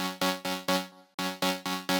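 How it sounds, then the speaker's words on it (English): Serum synth lead using the Lead Dynamics preset with a perfect fifth layered in, for tech house: eight bright, evenly spaced stabs with a short silent gap midway, loud and alone. "It's a preset called Lead Dynamics, and it has a perfect fifth in there."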